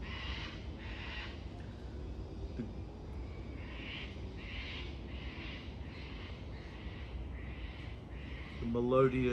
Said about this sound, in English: melodious tune of the Australian birds in the background.